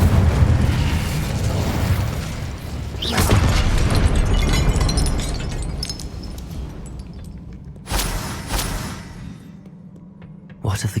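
Booming fire-spell blasts in the Hogwarts Legacy video game, a dense roaring wash of explosive rumble with two sharp bursts standing out, loud and close over continuous game ambience.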